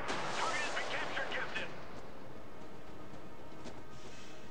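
Naval guns fire in the World of Warships game, a burst of deep booming salvo blasts up front that fades into lingering rumble, with a few fainter distant thumps afterward, loud and close.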